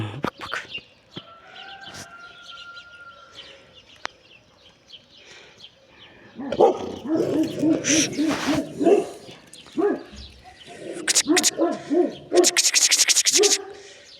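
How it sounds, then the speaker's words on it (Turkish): A dog gives a run of muffled, repeated barks and yelps, growing louder and more insistent partway through, with other noises mixed in. "Ağzında ekmek varken dahi bağırıyor bu köpek."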